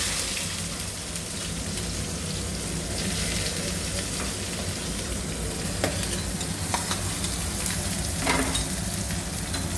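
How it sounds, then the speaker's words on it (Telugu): Mustard seeds, cumin, onion and curry leaves fry in hot oil in a pan for a bitter gourd dish, giving a steady close sizzle with crackling pops and occasional stirring, no voices. "కరివేపాకు ఇవి మంచిగా ఫ్రై కావాలి"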